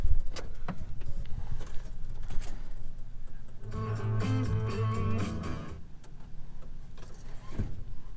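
Keys jingle, then an OBS Ford pickup truck engine with 177,000 miles cranks over with a strained mechanical whir for a couple of seconds before settling into a low rumble.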